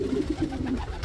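Racing pigeons coo in soft, low, repeated burbling notes close by, over a steady background hum.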